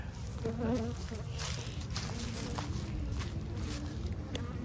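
Honeybees swarm and buzz around freshly split hives in an outdoor apiary, a steady close insect drone with individual bees passing near and a few faint rustles underneath.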